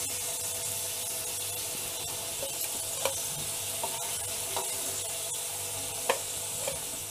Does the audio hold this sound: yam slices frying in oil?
yes